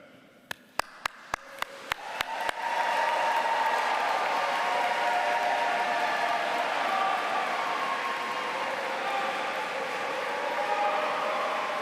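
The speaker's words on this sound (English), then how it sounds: "Will you please applaud them in return?" Audience in a cathedral applauding university graduates at a graduation ceremony: a few scattered claps open, then sustained, dense applause fills the space steadily and loudly to the end.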